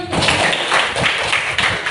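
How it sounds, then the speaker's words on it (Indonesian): A classroom of students claps for a classmate's correct answer, a short burst of quick, loud, rhythmic hand claps that is close and continuous for about two seconds. "tepuk tangan dulu"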